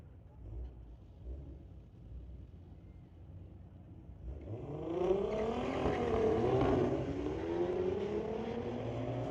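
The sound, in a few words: Volkswagen race cars racing down the drag strip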